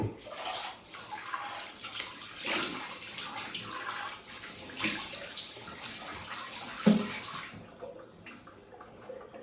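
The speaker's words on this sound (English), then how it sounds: "Now rinse off with cold water." Cold tap water runs steadily into a basin for rinsing off after a shave, a soft continuous splashing flow lasting several seconds before stopping, with a faint clunk midway.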